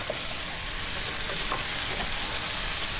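Chopped onion frying over high heat in a pan for a chicken and langoustine dish, giving a steady, close sizzle with faint scraping stirs mixed in and no voices.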